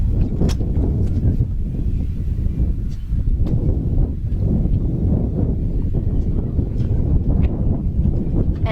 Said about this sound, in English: So the wind's picking up right now.